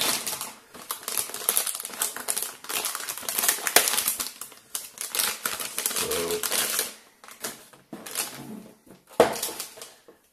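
Cardboard packaging of an ASUS Radeon RX 560 2GB graphics card being opened, with close, busy crinkling, tapping and rustling that comes in bursts and ends with a sharp knock.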